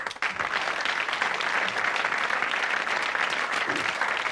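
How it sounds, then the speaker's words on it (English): Studio audience applause on a 1984 British quiz show, a loud continuous wash of many clapping hands sustained evenly from start to finish. "So a round of applause, please, for Mark Briggs and John Luca."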